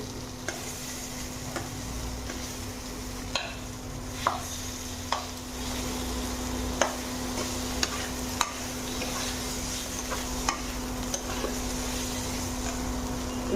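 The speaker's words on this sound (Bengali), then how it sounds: "আলুটা ভাজা ভাজা হয়ে গেছে খুঁটির সাহায্যে আমি আলুটা ছোটো ছোটো করে নেবো" Fried potatoes are broken into small pieces with a spatula in a pan while cooking soya chunks, with soft sizzling under a steady hum and scattered sharp taps and scrapes of the spatula against the pan.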